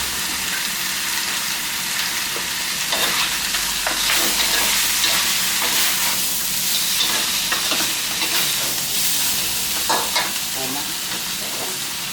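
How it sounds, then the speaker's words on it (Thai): Catfish stir-fries with fresh green peppercorns and long red chilies in a hot pan, a loud steady sizzle broken by repeated scraping stirs, close up and without talk. "จากนั้นเราก็ใส่พริกไทยสดพริกชี้ฟ้า ลงไปผัดนะครับ"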